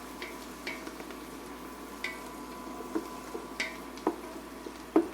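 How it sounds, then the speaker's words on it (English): A spoon clinks now and then against a pot of soup seasoned with cracked black pepper as it is stirred. The light, scattered taps sound faint over a quiet background hum. "Some more stir."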